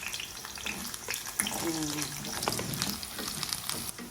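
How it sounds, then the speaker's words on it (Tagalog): Carrots frying in oil in a pan give a lively, close sizzle with bubbling crackle and a few soft stirring knocks, steady throughout. "Carrots naman po ang ating ipiprito."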